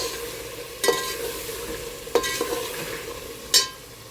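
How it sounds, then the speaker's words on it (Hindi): Mutton pieces fry with yogurt and black pepper powder for a white mutton pulao under a steady close sizzle, broken by three sharp scraping stirs of a spoon spaced about a second and a half apart. "भून लेंगे दही के साथ सब कुछ।"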